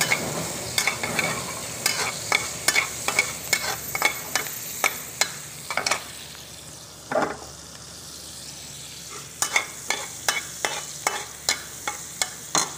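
Garlic sizzles softly in melted margarine in a pan while a spoon scrapes and stirs it in steady repeated strokes, with a short pause midway before the rhythmic stirring resumes, close and fairly quiet.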